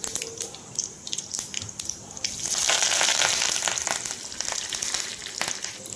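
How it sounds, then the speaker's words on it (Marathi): Mustard seeds and curry leaves crackle and sizzle in hot oil for a chutney tempering, with sharp pops over a steady hiss that grows louder and denser midway, close and without talk. "इथे मस्त तेल गरम झाल्यानंतर त्यामध्ये मोहरी टाकलेली आहे"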